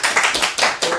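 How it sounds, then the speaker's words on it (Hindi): A crowd applauds a speaker at a gathering, with several quick bursts of close, loud clapping that swell and fade in waves over about a second. "ताली हो जाए एक सर के लिए।"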